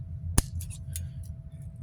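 Scissors snip a tiny sliver off the end of a plastic zip tie with a single sharp, close click, followed by faint small rustles against a low background hum.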